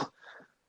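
A single short throat clearing, a brief rough burst followed by a softer rasp, close and fairly quiet.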